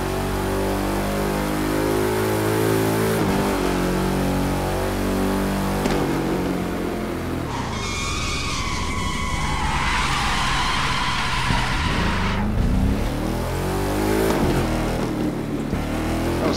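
A sports car in The Crew 2 racing game drifts around a turn with a sustained revving engine, tires squealing and skidding loudly through the middle stretch, engine roaring steadily throughout.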